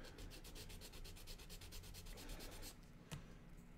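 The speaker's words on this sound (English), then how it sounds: "take my little sander" A small handheld sander smooths a plastic model car part, giving a steady close rubbing buzz that runs continuously, then eases off near the end with a brief knock.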